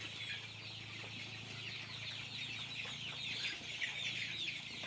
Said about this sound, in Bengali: এই যে সব আমার মুরগি এগুলা, এই যে উড়াউড়ি করতেছে